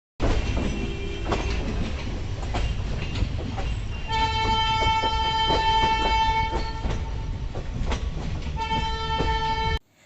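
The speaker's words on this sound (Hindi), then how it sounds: "हमारी जो ट्रेन है वो जम्मू को पार कर चुकी है" A passenger train bound for Katra, past Jammu, rumbles along steadily and loudly with rhythmic wheel clatter, and its horn sounds in long sustained blasts before the noise cuts off abruptly.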